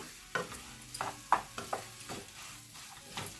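Sweet potato halwa is stirred and fried in a pan, giving soft, quiet scraping strokes and faint sizzling at an uneven rhythm, with no talking.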